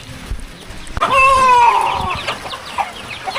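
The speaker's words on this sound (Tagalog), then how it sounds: "Yari ang manok ng kapitbahay." A neighbour's chicken clucks and squawks nearby, one drawn-out loud call followed by a few shorter clucks, alone with faint background noise.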